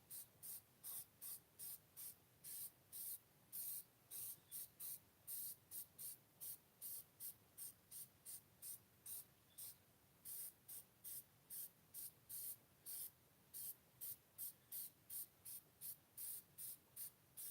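A spray can of gasket sealant hisses in many short bursts onto an engine head gasket, one after another in a steady rhythm, sharp and close, with a faint background hum.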